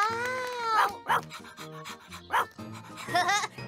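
A cartoon sheepdog pants rapidly and whimpers with a few short yips, close by, over a faint tonal musical background.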